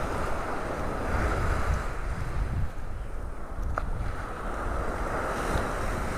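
Waves wash onto a beach in North Naples, Florida, making a continuous roar of surf mixed with heavy wind buffeting the microphone, and the whole scene stays loud and unbroken.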